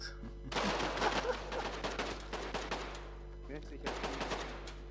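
Gunfire in a combat video game: rapid bursts of automatic shots in two clusters over a steady low electronic hum, moderately loud and close.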